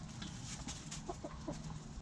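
Hens and roosters cluck steadily in a coop of rescued former laying hens, several birds overlapping in a busy, close chorus with short sharper calls standing out.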